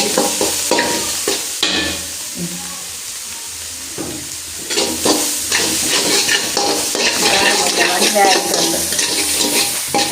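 Egg frying on a hot griddle for Jaffna-style kottu roti gives a loud, steady sizzle, broken by scraping and clattering of a utensil working the pan throughout.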